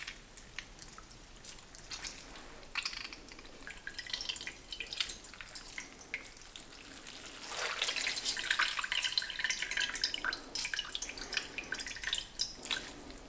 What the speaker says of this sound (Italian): A questo punto vado a strizzare e conservo l'acqua.